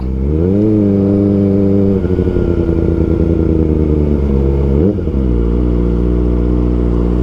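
A Kawasaki ZX4RR motorcycle climbing a mountain road, its engine loud and close, revving up and down through repeated gear changes with a sharp throttle blip near the end.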